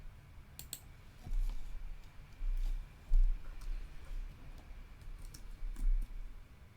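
Someone types code on a computer keyboard, producing light, crisp key clicks in short irregular bursts with brief pauses, close and fairly quiet, with no voices.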